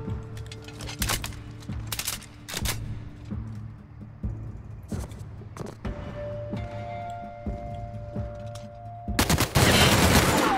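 Video game gunfire from The Outer Worlds: a series of sharp, loud shots in irregular bursts, separated by pauses, ending in a dense, noisy blast near the end.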